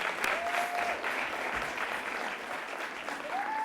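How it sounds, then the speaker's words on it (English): Middle school authors get a steady round of applause from the audience, with moderate crowd clapping and a brief whistle or cheer in places throughout. "Just one more time, a round of applause."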